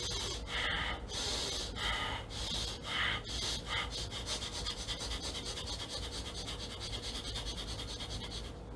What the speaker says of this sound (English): Let's do our fire breathing that we learned in one of the other classes.